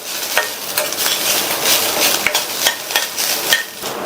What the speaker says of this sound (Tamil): இது கூட 1/4 கப் தேங்காய் துருவலை சேர்த்துட்டு 1 நிமிஷத்துக்கு நல்லா வதக்கி விட்டுக்கங்க.